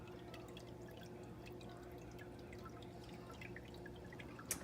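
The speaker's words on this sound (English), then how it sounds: "You can hear the water running through it a little bit." Water trickles and drips through a Miracle Gro Aerogarden indoor growing unit, a faint, steady patter of small drops over a low hum, close and quiet with no voices.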